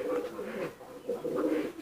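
A Teddy-type high flyer pigeon in a loft coos in soft, low repeated phrases, close by, with a short gap in the middle.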